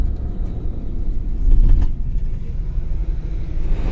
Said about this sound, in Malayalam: നമ്മുടെ കർണാടകയുടെ വണ്ടിയൊക്കെ ഇത് സൈഡിൽ കൂടി നല്ല പറന്നടിച്ച് പോകുന്നുണ്ട് സർവീസ് റോഡിൽ കൂടെ